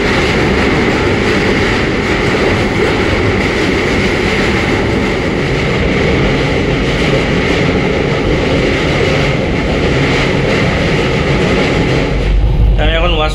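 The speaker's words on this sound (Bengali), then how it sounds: "ট্রেন কিন্তু আমাদের কটক স্টেশনের 1 নম্বর প্ল্যাটফর্ম থেকে ছেড়ে বেরিয়ে গেল।" From inside a chair car, the Dhauli Express pulls out of platform 1 at Cuttack station with a loud, continuous rumble and rattle that holds steady throughout.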